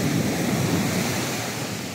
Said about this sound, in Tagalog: sobrang lalaki ng alon